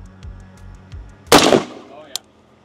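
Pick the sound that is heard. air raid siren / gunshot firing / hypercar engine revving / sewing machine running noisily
gunshot firing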